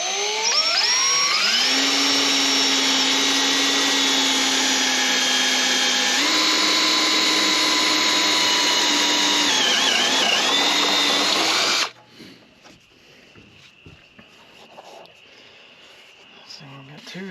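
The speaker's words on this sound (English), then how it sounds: "Spot weld drill bit don't go all the way through." A spot weld drill bit bores out old factory spot welds on a rusty car body during a rust repair. It makes a loud, steady, high-pitched whine that shifts slightly in pitch for about twelve seconds, then cuts off abruptly, leaving faint shop noises.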